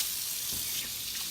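Water, about a cup and a half, is poured into an Instant Pot, making a steady, close rushing splash that runs unbroken for a moment with no talk over it.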